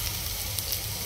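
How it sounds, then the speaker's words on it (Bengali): Garlic sizzles steadily in a hot pan, a continuous close crackling hiss with small pops, no voices. "রসুন দিয়ে দিব। সিদ্ধ হওয়া পর্যন্ত একটু ভেজে নেব।"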